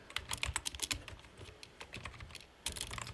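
Rapid keystrokes on a computer keyboard while code is typed, coming in irregular bursts with short pauses, close and fairly quiet, with no talking.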